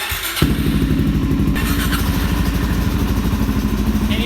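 A 2019 DRZ 400 supermoto motorcycle engine kicks in after a brief pause and runs loud and steady while warming up, a close, throbbing rumble with a fast, even pulse.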